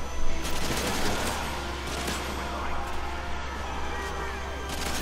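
Dense bursts of automatic gunfire crackle through a Modern Warfare 3 Spec Ops match, rapid and overlapping, with a heavy low rumble beneath and players chatting over the shooting.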